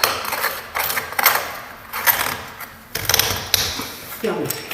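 Screwing SHAFFER PRO tile leveling spacers to adjust tiles laid over existing tiling: close ratcheting clicks and mechanical turning in several bursts, with brief pauses between them.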